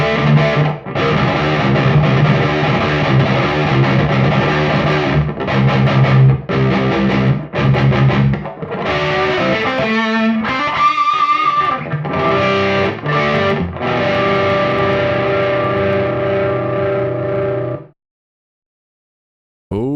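Distorted electric guitar played through a Mesa cabinet impulse response with a reverb tail, a dense, loud riff of sustained chords and chugging notes that runs continuously before stopping abruptly near the end.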